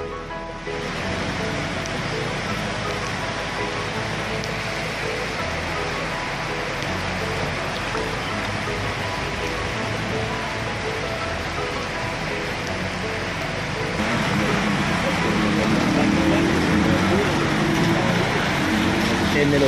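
Steady rain falls in Siloé, Cali, Colombia, a dense broadband hiss that holds for about twenty seconds and grows slightly heavier toward the end, with no clear voices over it.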